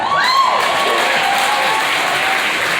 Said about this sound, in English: You should give me a round of applause.